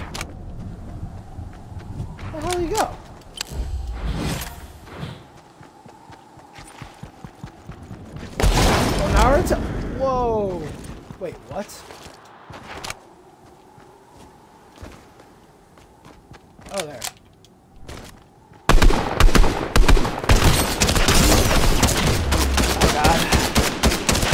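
Gunfire from a gun in the video game Fortnite, heard as scattered bursts of shots with quiet gaps between them and a heavy, sustained volley near the end, mixed with other game noise and someone talking.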